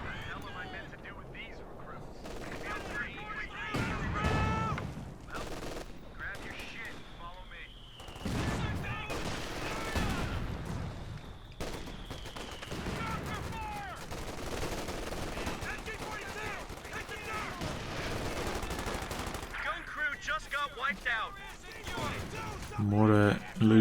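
Automatic gunfire in a Company of Heroes 2 1v1 battle crackles in repeated bursts alongside explosions and battle noise, with a commentator talking over it.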